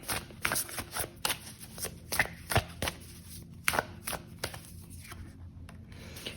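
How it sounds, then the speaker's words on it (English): Oracle cards shuffled by hand, giving a rapid series of crisp riffling and slapping bursts at close range with brief pauses between them, and no voices. "Let's draw some oracle cards here."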